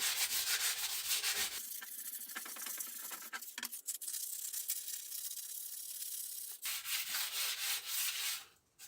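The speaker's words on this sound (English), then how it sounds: "going over where I've sanded to make sure and filed to make sure that every little bit is getting picked up and smoothed off" A sword blade is sanded with 120-grit abrasive, producing loud, continuous scraping rubs whose tone shifts between strokes, heard close up with no talking.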